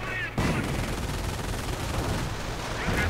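Gunfire in a WWII strategy video game battle with riflemen, grenadiers and an MG42, a dense continuous rattle of shots and blasts that opens with a sudden burst and stays loud throughout.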